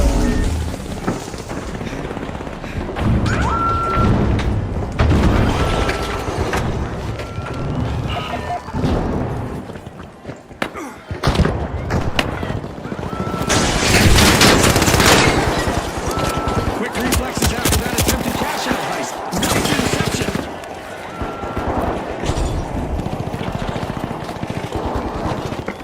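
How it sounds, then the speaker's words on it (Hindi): Explosions, gunfire and thrown fire from the video game The Finals crash in dense bursts with booming impacts and rapid shots, while a voice talks over the chaotic mix. "Planting explosives. Reloading. Throwing fire."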